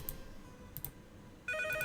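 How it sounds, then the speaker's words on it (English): Electronic phone ring in the Nancy Drew game Treasure in the Royal Tower, kicking in near the end after a quiet stretch with a couple of faint high chirps; clear, close and steady, no voices. "Okay, we're gonna answer the phone."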